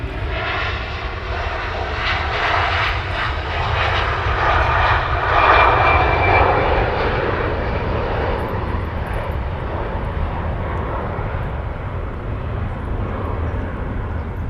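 Airliner departing Manchester Airport, its jet engines giving a loud sustained roar that swells and then slowly fades as the plane moves away, with no talking.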